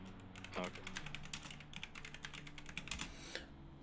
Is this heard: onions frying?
no